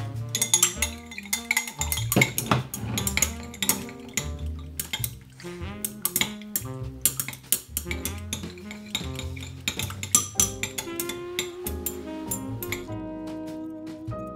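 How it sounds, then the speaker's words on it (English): Stirring a candle-making mixture in a container, a spoon clinking and scraping against the sides in quick irregular taps, close and fairly loud, with no voices. "I'm going to stir this one for about 2 minutes"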